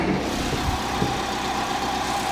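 The 2.2 liter Ecotec four-cylinder of a 2009 Chevrolet Cobalt idles under the open hood, giving a steady, smooth hum with a low rumble that stays even and fairly close throughout.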